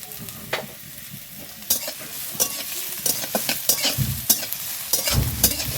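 Carrot, potato and green chili fry in oil while a spatula clacks and scrapes against the pan. Loud, irregular stirring knocks punctuate a continuous close sizzle.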